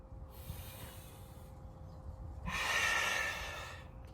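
During Sanchin kata, a forceful breath is heard: a long hissing exhale, a pause, then a louder, harsher sustained breath drawn in close to the microphone.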